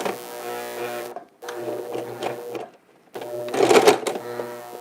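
A sewing machine sews a face mask seam in three separate close bursts of rapid whirring stitches with short silent gaps between them, the last burst louder and rougher.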